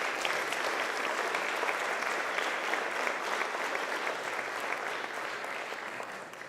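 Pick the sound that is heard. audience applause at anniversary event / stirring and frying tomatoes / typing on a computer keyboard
audience applause at anniversary event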